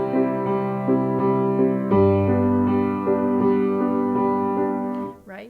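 Piano chords from a song under loud, evenly repeated notes that pound steadily in the foreground, hard-struck and bright, ending abruptly.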